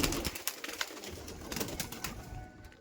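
Pigeons in a loft make a dense, continuous murmur of cooing and rustling close by. Sharp scuffs and clicks break through the noise, and no one speaks.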